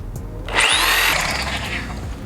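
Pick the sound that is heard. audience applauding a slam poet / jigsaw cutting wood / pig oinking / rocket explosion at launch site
jigsaw cutting wood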